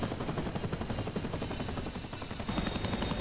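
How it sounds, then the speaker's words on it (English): A Chinook helicopter in a flight simulator game, shown in an exterior view, gives a steady, loud rotor thump with fast rhythmic beating and a broad engine roar that holds constant throughout. "So there's the Chinook."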